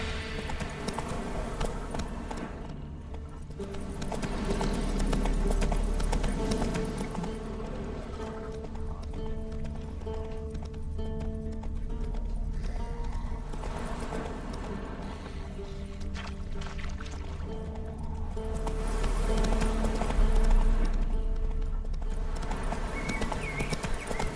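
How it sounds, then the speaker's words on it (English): Hooves of the horse Roach clip-clop steadily in The Witcher 3, a continuous walking rhythm set against a full game music and ambience bed, with an occasional whinny and no talking. "Whoa there, Roach."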